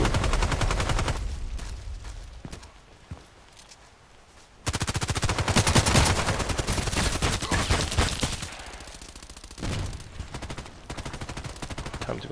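Rapid bursts of H&K MP5k submachine gun fire in the online shooter Contract Wars, loud and close, with short pauses between volleys and no talk.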